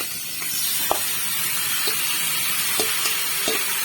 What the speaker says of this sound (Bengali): এবার ওর মধ্যে আমি এই ম্যারিনেশন করে রাখা এঁচোড়টা ঢেলে দিলাম।